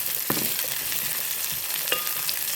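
Sliced onions, garlic and curry leaves sautéing in a hot pan for okra curry, a steady close sizzle with occasional stirring scrapes and soft clicks, no voices.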